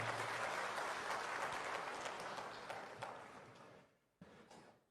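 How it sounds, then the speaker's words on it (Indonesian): Audience at a national working meeting of Indonesia's land agency claps loudly in a dense, sustained burst that gradually thins and fades, with a brief final flurry near the end. "Tepuk tangan untuk kita semuanya."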